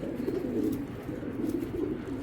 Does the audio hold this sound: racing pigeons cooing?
yes